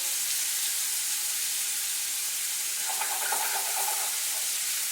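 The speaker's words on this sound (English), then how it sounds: "You guys hear that sizzle? I know you hear it." Steady, close sizzling of Cajun-spiced shrimp frying in a pan, a continuous bright crackling hiss with no talking.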